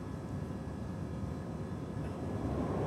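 A London Underground train bound for Cockfosters approaches the platform, a steady broad rumble and rush of noise at moderate level with no distinct breaks.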